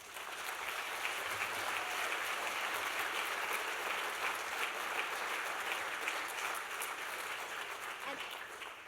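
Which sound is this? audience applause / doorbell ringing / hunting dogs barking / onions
audience applause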